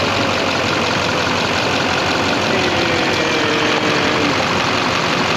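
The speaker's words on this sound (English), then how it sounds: "hit the key, restarting the engine" A Duramax diesel truck engine, fitted with a dual alternator setup, idles with a loud, steady, broadband rumble that fills the whole span, no voices over it.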